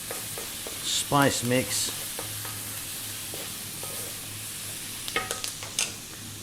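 Thyme and smoked paprika get stirred into bacon frying in a pan, a low steady sizzle with a few scrapes and clinks near the end; a person speaks briefly early on.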